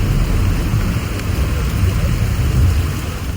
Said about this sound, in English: The moment we arrived, the rain came down,